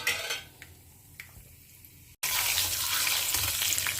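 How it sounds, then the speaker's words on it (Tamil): Mustard seeds, urad dal and chana dal spluttering and crackling in hot oil for a Tamil tempering; quieter at first, then a sudden loud, dense sizzle with scattered pops over the second half. "கடுகெல்லாம் பொரிய ஆரம்பிக்கிறது, பருப்பும் செவக்க ஆரம்பிச்சுடுத்து"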